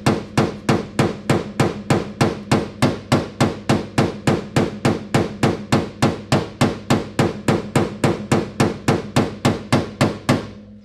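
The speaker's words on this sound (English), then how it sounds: "So I got my dolly and my hammer." Rapid, even light hammer taps on a car body panel backed by a dolly, about three per second, ringing sharply and up close for the whole stretch, then stopping.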